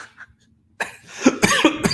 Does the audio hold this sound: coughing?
yes